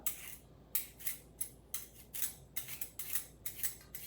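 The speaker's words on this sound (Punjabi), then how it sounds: "ਫਿਰ ਆਪਾਂ ਇਹਦੇ ਪੀਸ ਕੱਟ ਲੈਣੇ ਹੈਗੇ ਆ ਜਿੱਦਾਂ ਨਾਈਫ ਦੇ ਨਾਲ ਕੱਟ ਲਓ" Fresh turmeric root is sliced into pieces with a knife, giving about a dozen crisp, quiet cuts in a steady, slightly uneven rhythm, close by and with no talking.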